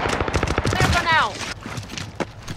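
Gunfire in Call of Duty: Modern Warfare, rapid automatic bursts close by, with a voice shouting over the shots and a few scattered bangs after them.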